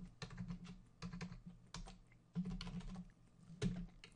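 Code is typed on a computer keyboard in quick bursts of close, soft clicking keystrokes, separated by brief pauses, with no talking.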